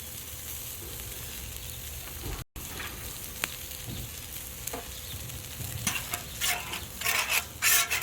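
Oil sizzling on a hot flat griddle while being spread around next to a pork chop, a steady soft hiss with a brief dropout and a few light scrapes, then busier crackling and clatter toward the end, no voices.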